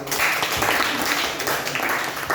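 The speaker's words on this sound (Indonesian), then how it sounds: "Oke, kita tepuk tangan." A classroom of students clapping their hands together, a dense, steady patter of many hands close by that fills the whole stretch without letup.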